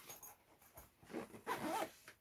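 A zipper on a pocket of a Crib Goch Rogue Ridgeback 55 backpack being pulled open, a close, quiet series of short ratcheting zips with brief pauses, no talk.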